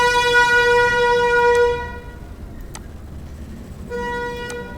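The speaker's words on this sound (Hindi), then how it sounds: "ये रिकॉर्डिंग के टाइम हॉर्न वगैरह आते रहते हैं।" Vehicle horns honking outdoors, a loud sustained tonal horn blast that cuts off, then resumes near the end, over a low rumble of traffic.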